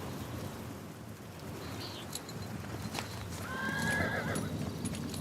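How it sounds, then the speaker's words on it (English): Horses clip-clopping and whinnying in steady rain in Pentiment, hooves tapping at moderate distance over a constant rain hiss, with a neigh rising near the end. "I must finish preparing the horses"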